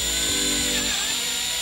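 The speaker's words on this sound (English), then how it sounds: "And all you do is just drill a hole." A power drill whirs briefly as it bores a hole through the plastic of a Fisher-Price DJ Buggy toy, a close, steady motor whine that winds down within about a second and a half.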